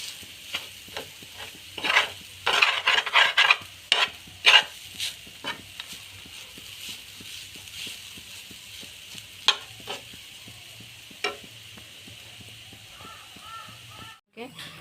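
Lentil filling for village-style dal puri fries in a pan while a spoon breaks up the lumps, giving bursts of scraping and clattering over a faint background sizzle, with quieter stretches in between.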